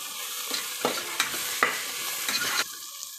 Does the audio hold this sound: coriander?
yes